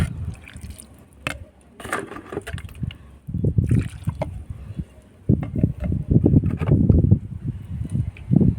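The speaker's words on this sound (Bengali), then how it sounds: "টপ ভর্তি করে জল দিয়ে দেব এইভাবে জল দিয়ে দিলাম" Water poured from a container into a hibiscus plant pot, a run of soft splashing and trickling gurgles that builds in bursts and grows louder toward the end, close by with no talk.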